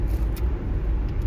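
A car drives along with a steady low engine and road rumble from inside the cabin, unbroken and fairly loud, with no talk.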